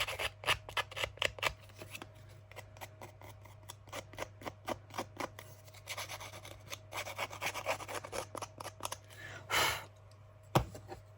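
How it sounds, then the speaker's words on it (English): Serrated scissors cut and distress paper for a Halloween junk-journal craft, giving repeated short crisp snips and rasping rubs in an irregular rhythm, close and fairly clear, with a louder burst near the end. "I'm going to get me normal scissors because they're serrated"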